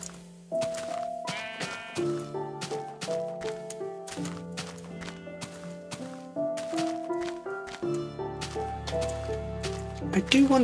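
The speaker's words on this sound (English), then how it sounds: "I do wonder why there's just sheep spawning in this field though" Sheep in Minecraft bleat in repeated tones over a steady run of game music and clicky block sounds, all fairly close and clear.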